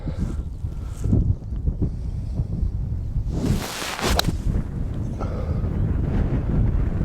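Gusty wind on a golf course buffets the microphone in a loud, steady low rumble for the whole stretch, rising into a stronger rushing gust midway, with no speech heard.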